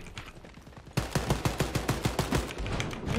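Rapid automatic gunfire from a weapon in Wolfenstein: Youngblood: a dense, evenly spaced burst of loud close shots that begins suddenly and continues without pause to the end.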